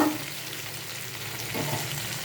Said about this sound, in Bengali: ঝিঙেগুলো দিয়ে দেওয়ার পর আরও কিছুক্ষণ ঢেকে ভাজতে হবে।